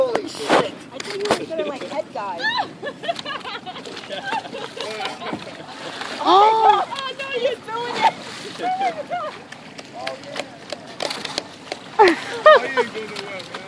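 Water splashes and sloshes repeatedly as a man swims in the Mississippi River, irregular strokes churning the surface while people talk throughout.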